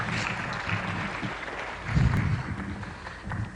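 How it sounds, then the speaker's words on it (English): Conference audience applauding a speaker at a mathematics meeting, a short burst of clapping from a hall that swells briefly in the middle, with faint voices mixed in. "give applause to him, please"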